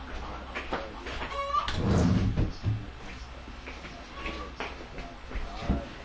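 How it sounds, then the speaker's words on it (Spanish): Roosters crow and chickens cluck from somewhere behind the neighbouring houses, the calls moderately distant and intermittent under a spoken Spanish lecture. "algunos escucharon los gallos hacia atrás."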